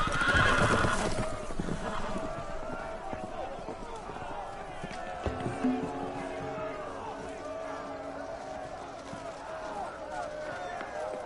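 Horses whinny loudly at the start, then hooves clatter in a gallop under music and shouting voices, in the video game Game of Thrones: Episode 6, The Ice Dragon.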